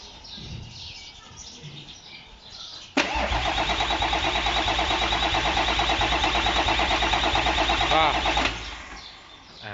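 An engine cranks and catches abruptly, runs at a steady idle for about five seconds, then shuts off; faint birdsong sits in the background before and after.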